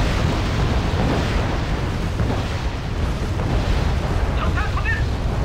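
Continuous rumbling explosions and booms fill the Wargame: Red Dragon battle, with napalm and artillery in the mix, loud and dense throughout, and a faint voice under the blasts.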